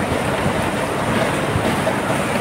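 Ocean waves wash onto the beach at Teknaf Marine Drive, where fishing boats sit in the surf, forming a continuous, moderate roar of surf without voices.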